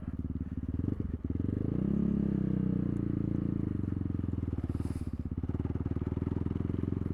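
A Kovi Lite 300 enduro motorcycle engine drones steadily and loudly, rising briefly in pitch as the bike rides along a muddy dirt road, heard from the rider's position.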